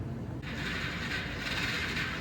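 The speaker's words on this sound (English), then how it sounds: "It's turning over, just not happily." An ATV quad engine cranks over on its electric starter after WD-40 is sprayed into the cylinder, giving a steady, close mechanical whirring and ratcheting churn that runs without pause and without catching.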